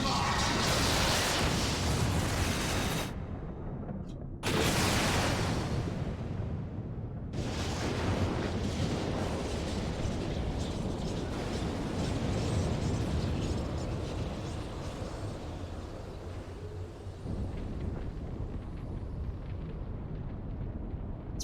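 Explosion spell cast in Final Fantasy XIV erupts as a series of loud, booming blasts, with sharp bursts near the start followed by a long, rumbling roar that slowly fades over about twenty seconds.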